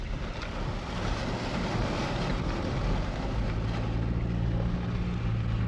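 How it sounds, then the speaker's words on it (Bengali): A car drives through a deep water crossing on a mountain road in North Sikkim, giving a continuous rushing, splashing roar that builds over a low engine rumble, with no talk. "সামনেই আসছে একটা ওয়াটার ক্রসিং, এটা কিন্তু অনেকটাই জল আছে।"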